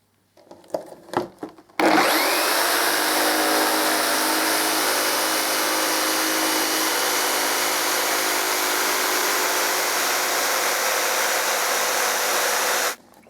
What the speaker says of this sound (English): Jigsaw, 45-degree angle.